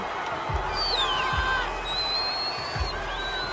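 Cricket stadium crowd under the lights produces a dense, continuous roar of cheering and whistles, steady and loud with rising whoops. A few low thumps punctuate the noise.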